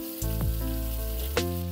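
Steady close sizzle of papdi flat beans and vegetables being stir-fried in a pan, with a couple of quick spatula clinks over the continuous hiss.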